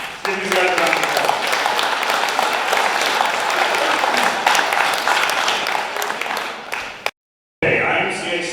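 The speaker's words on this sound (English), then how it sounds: "Give these guys a round of applause." A crowd at a SaltCity Racing awards banquet at the 1861 Club applauds loudly and steadily for about seven seconds, then it cuts off briefly before more clapping and murmuring resume.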